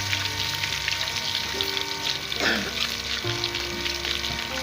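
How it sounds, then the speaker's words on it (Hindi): Garlic and ginger frying in a pan for a white chickpea curry, giving a steady close sizzle throughout with light stirring scrapes and no talking. "ये लहसुन अदरक फ्राई हो गया है।"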